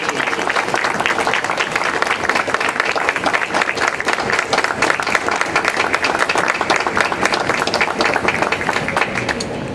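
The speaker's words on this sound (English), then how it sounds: "you deserve at least a round of applause" Loud, sustained applause from an audience of students and guests at the unveiling of a Battleship Massachusetts model at Logan Airport, a thick continuous wash of clapping with faint crowd murmur beneath.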